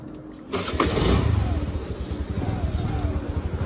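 A scooter engine starts up close by, then settles into a steady, rough idle that runs on without pause.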